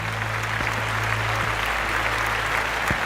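Audience applause at an award ceremony as a presenter comes on stage, a steady, dense wash of clapping that holds at an even level throughout without any voices.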